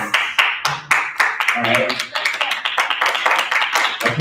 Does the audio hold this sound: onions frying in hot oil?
no